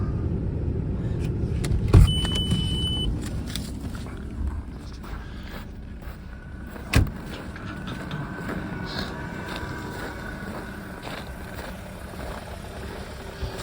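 A Ford car idles in freezing cold, around minus sixteen degrees, a steady low engine rumble running throughout with a couple of brief knocks and faint footsteps nearby.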